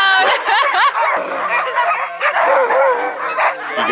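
Sled dogs at a dog sledding camp in Juneau, Alaska bark, yip and howl together in a loud, dense chorus of overlapping calls that rise and fall in pitch, with no pause and close to the listener.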